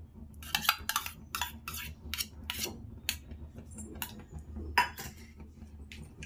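A spoon scrapes and clinks against a pan while pumpkin halwa with ghee and cardamom powder is stirred, giving a string of close, sharp metallic strokes in an irregular rhythm.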